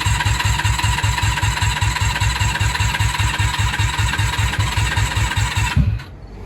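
A 1994 Honda Magna motorcycle engine cranking with no fuel in the carburetors yet, a loud rhythmic chugging of the starter that runs for about six seconds before cutting off.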